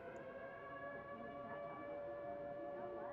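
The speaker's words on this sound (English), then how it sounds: "I hate hearing tornado sirens." A tornado siren wails steadily in the Nancy Drew game Trail of the Twister, a sustained droning tone held at an even level throughout with no voices over it.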